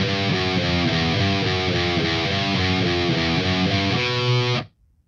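An electric guitar plays the second half of a riff with heavy distortion, repeated chugging notes in a steady rhythm, loud and close, cutting off abruptly at the end.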